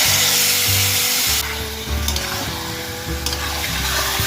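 Mutton sizzles with onions, a little fat and oil in a hot pan, a steady close hiss broken by repeated scraping strokes of a spatula as the meat is stirred and browned.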